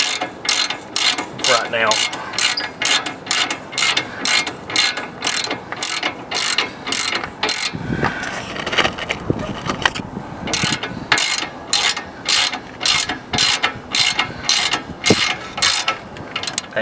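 A ratchet wrench with an 18 socket snugs up rear brake bolts on a Chevrolet Silverado, rapid loud clicking bursts in a steady back-and-forth rhythm, close up, pausing briefly midway for a short spoken phrase.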